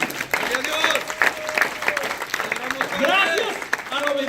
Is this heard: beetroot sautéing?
no